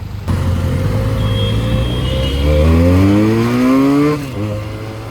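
A Benelli 300 motorcycle with a drained battery, push-started in second gear, idling loudly up close, then revving up in a rising, pulsing roar before dropping back to a steady idle.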